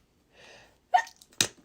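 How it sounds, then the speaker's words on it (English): A single person sneezes nearby: a soft indrawn breath, then a sharp, explosive burst and a second quick snap. "I'm going to sneeze again."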